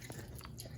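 Someone bites into a crunchy piece of home-grown pink oyster mushroom, giving a few quick, close, soft crunches in a quiet setting.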